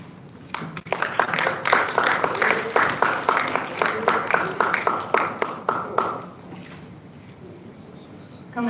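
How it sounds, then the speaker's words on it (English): An audience applauds an award recipient on stage with a steady patter of hands that rises, holds for several seconds and then fades into room noise. "please a big round of applause for him"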